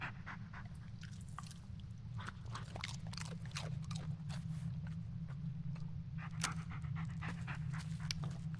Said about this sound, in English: Just give him a dog snack.